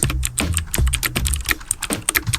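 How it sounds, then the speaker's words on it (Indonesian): Quick, uneven keystrokes on a computer keyboard as a search is typed, close and clear with short pauses between bursts and no talking. "aku cobalah ketik dekat Google ya"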